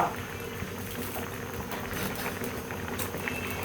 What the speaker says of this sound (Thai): ให้เดือดนะคะ